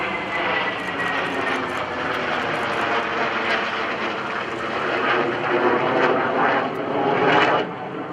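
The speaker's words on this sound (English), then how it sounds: "this is your United States Navy's Tailhook Legacy flight" Aircraft of the US Navy Tailhook Legacy flight pass overhead at an open-house air show, a loud continuous engine roar that swells slightly before easing off near the end.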